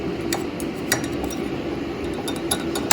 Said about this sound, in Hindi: बस आपने मिक्स करना है, मिक्स।